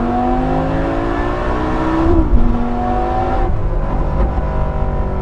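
A Lamborghini Gallardo Nera accelerates hard from inside the cabin at around 70 mph, its engine note climbing steadily, dropping briefly at a gear change, then rising again, loud and close with no talk over it.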